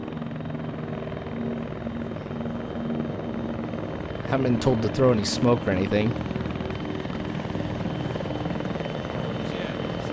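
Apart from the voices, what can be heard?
helicopter coming in to land in video game ARMA 3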